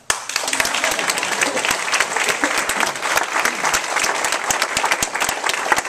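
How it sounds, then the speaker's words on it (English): An audience claps at a talk where a martial arts salute is being demonstrated, a steady patter of many hands with scattered sharper claps, continuing without pause. "you can clap"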